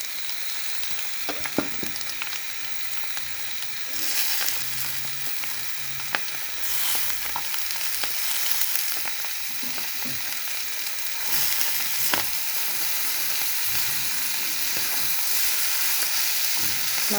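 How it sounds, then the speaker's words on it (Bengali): Noodles and egg are stirred in a hot pan, with a continuous sizzle under repeated scraping and clicking of the utensil against the pan, alone and close. "ডিমের সাথে যেন নুডলসের গায়ে লাগে এভাবে নাড়াচাড়া করা হচ্ছে"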